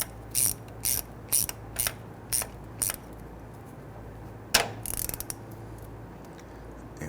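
A ratchet tightens an 8mm nut on the starter of a 2007-2014 Cadillac Escalade 6.2L V8, giving six short, crisp clicking bursts close by, then a brief pause and a longer final run of clicks.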